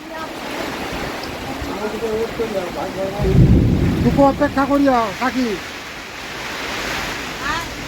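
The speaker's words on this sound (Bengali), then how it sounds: "এ বৃষ্টির সঙ্গে বাতাস হচ্ছে মারাত্মক।" Heavy rain lashed by strong wind makes a constant broad rushing roar outdoors, swelling in gusts, while people talk over it.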